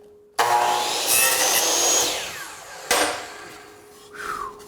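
Power saw, probably a miter saw, cutting trim stock held square against the fence during finish carpentry: a loud sustained whine after a quiet start, a second shorter burst near the end, then spinning down.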